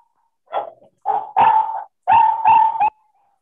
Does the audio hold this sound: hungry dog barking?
yes